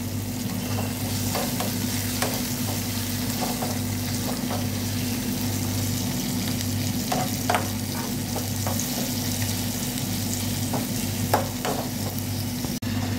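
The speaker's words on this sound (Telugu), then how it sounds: "టమాటాస్ బాగా వేగేంత వరకు మనము ఫ్రై చేసుకోవాలి." Tomatoes fry in a pan on low heat for a dry fish and brinjal dish, giving a steady sizzle with a low hum underneath and scattered scrapes and clinks of stirring throughout.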